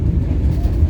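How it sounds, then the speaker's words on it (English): A Vande Bharat Express train set rumbles heavily from inside as it accelerates, with a steady low-pitched roar and faint rhythmic thumps through the carriage. "So that's the acceleration prowess of the Vande Bharat train set."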